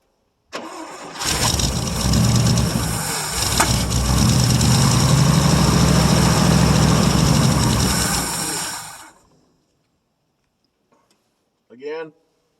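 A 1959 International B120 4x4 truck engine cranks and fires after a cold start, running loudly for about eight seconds before cutting out, followed by a brief voice.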